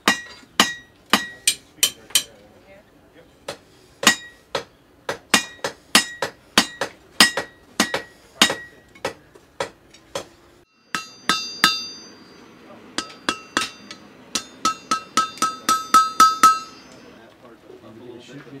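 Repeated sharp metallic hammer blows ring out while forging hand tools, steady and evenly spaced, pausing briefly before a faster run of ringing strikes on metal.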